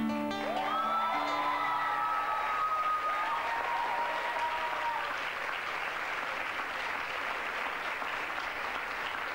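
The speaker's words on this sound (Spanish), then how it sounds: "Hay tanto aplauso en este programa" A television studio audience in 1995 breaking into sustained, dense applause, mixed with cheers and whoops at the start and a few sung or shouted tones, then settling into steady clapping.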